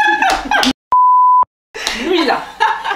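A single sharp, pure censor beep lasts about half a second and masks a spoken name. French conversation with light laughter comes before and after it, and a brief silence surrounds the tone.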